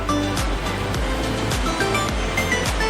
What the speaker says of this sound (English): Let's go to the waterfall site.